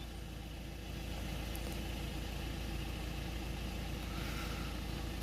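A Ford Transit diesel engine with a blocked DPF idles steadily, a close, even low rumble and rattle held for several seconds without speech.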